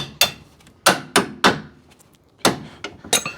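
A hammer taps out parts while a Daihatsu car is dismantled, giving about eight sharp metallic knocks at uneven intervals, close and fairly loud, with no talk.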